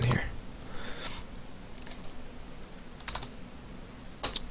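Typing on a computer keyboard comes as sparse, quiet key clicks in small clusters against a faint room background, close and soft.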